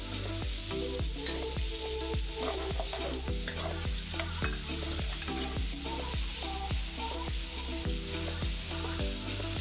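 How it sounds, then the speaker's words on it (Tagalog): Onions stir-frying in hot oil in a clay pot sizzle steadily, with rhythmic scraping and clacking of a stirring utensil throughout, close and loud. "lagay ko na ang sibuyas, stir cook mga isang minuto"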